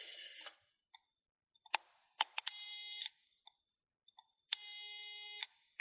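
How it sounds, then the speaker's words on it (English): A phone dialing the police gives scattered clicks and button taps, then two sustained electronic tones separated by a pause. Each tone breaks off sharply. The sounds are close and clear against silence. "Simon used Gerald's phone to call the police."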